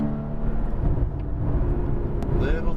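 Race car engine at a Las Vegas track roars steadily and loudly throughout, with a strong low harmonic drone as it accelerates on throttle; a voice speaks briefly over it.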